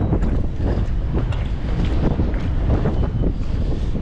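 Strong wind roars steadily across the microphone over open water, with a constant broadband rush and buffeting gusts throughout.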